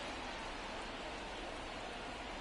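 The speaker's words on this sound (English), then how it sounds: "It's rained the entirety of this game, and it's become increasingly foggy." Steady rain falls in a baseball simulation game, an even, continuous hiss with no breaks or other sounds.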